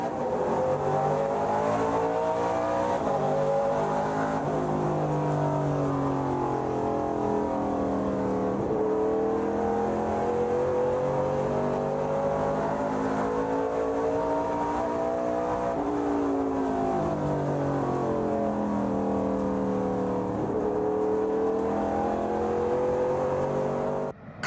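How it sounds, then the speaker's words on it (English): ARCA Menards Series stock cars race close together at Memphis International Raceway, a loud continuous roar of several engines rising and falling in pitch as they accelerate and pass, with no voice heard. "Close-quartered racing at Memphis."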